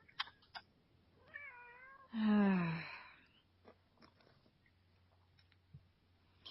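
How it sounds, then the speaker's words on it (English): A house cat meows close to the microphone, a wavering call followed by one loud, drawn-out meow, with soft clicks and small noises around it. "Cat!"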